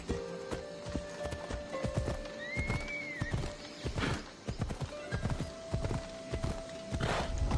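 Horse hooves clip-clop at a steady walking-to-trotting rhythm in Assassin's Creed Odyssey on PS5, with a whinny partway through over continuous game ambience and music.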